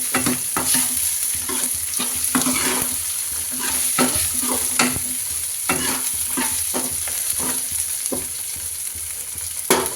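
Dried pea chaat being stirred in a pan, repeated scraping strokes of a spoon over a constant sizzle, near and fairly loud, no voices.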